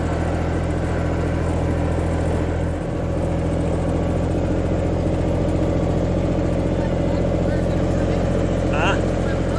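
A tractor engine idles steadily nearby in a garden, a constant low hum and rumble that does not change, while people talk over it.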